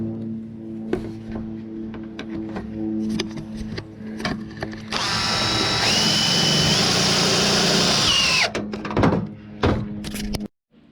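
A power drill drives screws into a truck camper during an air conditioner install, preceded by scattered knocks and clunks, then a loud sustained whirring run of several seconds that stops abruptly, followed by more handling thumps.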